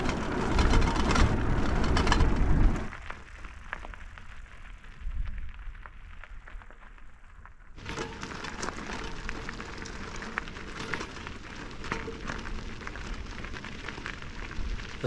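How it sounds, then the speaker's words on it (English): Light rain beginning to fall and build during a bikepacking trip on the Great Divide Mountain Bike Route, a dense broadband patter that drops back briefly then returns steadier and fuller, with no talk. "The first rain of the trip."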